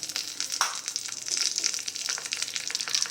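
Mustard and cumin seeds crackle and pop in hot ghee as a tempering for buttermilk rasam, a dense bright sizzle with scattered sharp pops, close and continuous with no talk.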